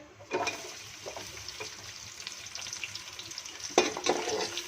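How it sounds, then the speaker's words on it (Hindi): Small chopped onion fries in ghee for kadhi pakora, a close, crackling sizzle with bursts of spatter and stirring, steady and moderately loud with no voices. "अच्छी तरह इनको गोल्डन फ्राई कर लें"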